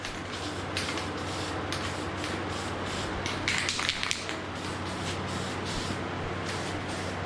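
Spray coating being applied to the lens of an SS Camaro headlight during a rebuild, a steady close hiss of aerosol with short louder bursts midway, no voices.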